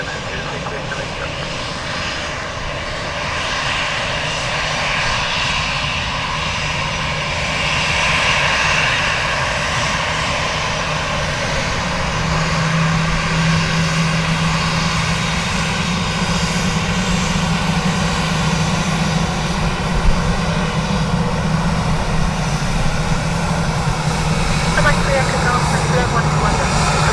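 A Ryanair airliner approaches to land on runway 28 left at Dublin Airport, its engines a steady, broad roar that holds across the whole stretch, with radio talk over it.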